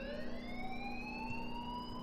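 An alarm rings steadily in Life is Strange, a continuous siren-like wail with rising tones that holds unbroken and fairly loud for the whole stretch.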